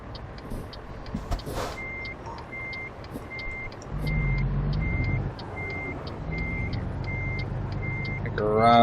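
A truck reversing in American Truck Simulator, its backup alarm beeping in a steady, evenly spaced rhythm over a low diesel engine rumble that swells partway through, with a hiss of air near the end.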